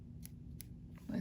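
Scissors snip thread close to machine-sewn stitches: two crisp, quiet cuts heard close up, then a brief soft voice at the end.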